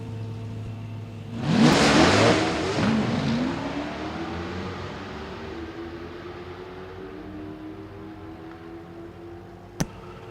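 Dodge Demon and Hellcat launching side by side in a drag race: a sudden loud roar of engines at launch that fades steadily into the distance as the cars pull away, followed by a brief sharp click near the end.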